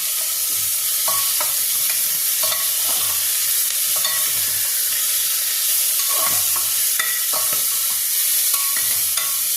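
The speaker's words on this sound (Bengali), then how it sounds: "আর দেবো সামান্য একটু হলুদ দিয়ে আর গোলমরিচের দিয়ে। এবার নাড়িয়ে দেবো।" Spices with turmeric and pepper being stirred in a hot pan, a steady sizzle with scraping strokes of the spoon recurring every second or so, close and clear with no talking.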